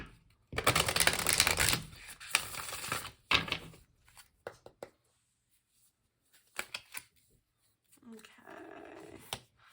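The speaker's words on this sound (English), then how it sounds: "Let's do one more shuffle here." Tarot cards being shuffled by hand in several quick riffling bursts separated by pauses, close and fairly loud, with a short spoken remark near the end.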